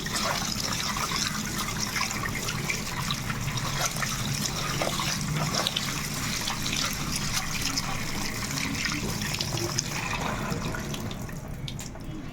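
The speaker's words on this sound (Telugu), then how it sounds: "ఈ బియ్యాన్ని మనం ఇలా చక్కగా కడిగేసుకుందాము" Rice grains being washed in water in a home kitchen while preparing chicken biryani, a close, continuous sloshing and splashing of water with no talk.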